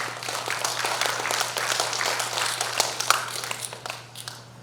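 Crowd applause at a Democratic Party delegates' convention in Jungnang welcoming a National Assembly member to the stage, many hands clapping in a dense rhythmic patter over a steady low hum, tapering off near the end.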